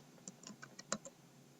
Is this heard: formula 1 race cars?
no